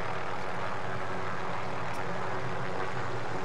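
A helicopter in Call of Duty Warzone drones steadily as a loud, continuous broadband rotor and engine roar, unchanging and close throughout with no other distinct events.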